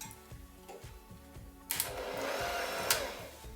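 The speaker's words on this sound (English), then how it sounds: "I'm going to pop my electric whisk on." An electric hand whisk whirs into life partway through, beating milk in a mixing bowl for mini quiches, with a steady broadband motor hum over a rhythmic ticking background.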